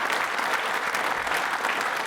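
Steady, dense applause from a quiz show audience of trainee state civil service officers at an officers' training school, a continuous wash of many hands clapping at even loudness with no voices.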